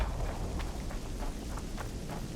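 Steady rain in The Witcher 2, a continuous hiss of drops falling on surfaces with faint patters, unbroken and even throughout.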